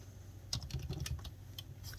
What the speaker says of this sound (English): Let's type in Facebook